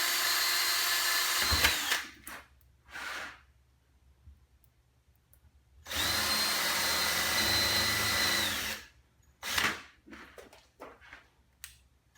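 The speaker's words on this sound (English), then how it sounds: "now I'm going to just make some divots where the holes are so my drill bit doesn't wander around" A power drill whines in two sustained bursts drilling holes in aluminum aircraft-style skin, loud and close, with clicks and clatter of handling in between.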